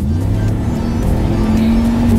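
A Jeep Commander's 5.7-liter Hemi V8 runs loud and close, holding a steady, throaty drone with a slight rise in pitch, as if being revved.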